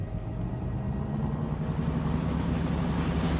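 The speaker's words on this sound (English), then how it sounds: "Listen, the engines are starting again." Ship engines start up again with a steady, loud, low rumbling drone that holds evenly throughout, with no voices over it.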